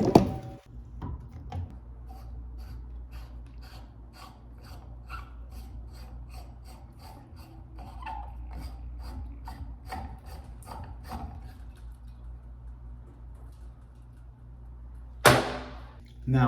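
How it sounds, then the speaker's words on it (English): A wrench turns and rasps against a shower pressure-balance cartridge in a steady series of close, dry scraping clicks, ending with a brief louder clatter near the end. "Now we just need a wrench, and we're gonna turn this to the left."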